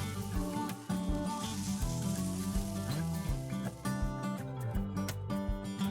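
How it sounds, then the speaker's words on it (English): Banana halves fry cut side down in a pan for a plant-based banana split, a moderate continuous sizzle with occasional soft clicks and shifts, nearby and alone without talk. "Fry it for another 2 minutes."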